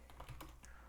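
Several quick keystrokes clatter on a computer keyboard, soft and close, in a short burst of typing with no speech.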